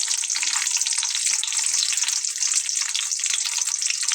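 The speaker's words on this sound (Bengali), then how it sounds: "এখন এই বেরেস্তা ভাজা তেলের ভেতরেই আমি বাকি মশলাগুলো ভেজে নেব। তো প্রথমে আমি পেঁয়াজগুলো দিয়ে নিলাম" Chopped onions sizzling and frying in hot oil already used for browning fried onions, a steady dense crackle and hiss throughout, close and loud, with no voices.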